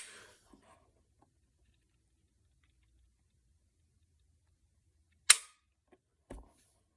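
A CZ P10c pistol trigger gives one sharp, crisp dry-fire click followed by a smaller, quieter reset click about a second later, both close-up in an otherwise quiet room.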